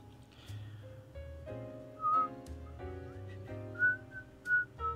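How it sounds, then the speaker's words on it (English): Close, clear whistling of a short melody, bright sustained notes with a few sharper, louder pitches standing out. "Can you whistle? Yeah, but whistling doesn't sound very good"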